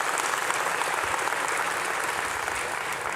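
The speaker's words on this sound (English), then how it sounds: "This clapping right here felt really good." Sustained audience applause at a Laracon US conference talk, steady and dense crowd clapping throughout with no speech over it.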